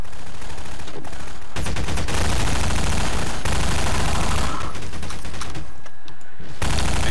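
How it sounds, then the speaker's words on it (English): Rapid bursts of automatic turret gunfire from Half-Life 2 rattle loudly and close, broken by brief pauses between volleys, with no talk. "that thing can't really hit me when I'm like this. The turret, it hits like 1 out of 8 bullets"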